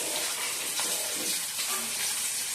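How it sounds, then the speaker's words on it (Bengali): Catla fish frying in a pan gives a steady, broad sizzle that holds evenly from start to finish, close and fairly loud, with no talking. "মাছটা ভেজে নিচ্ছি, কাতলা মাছ।"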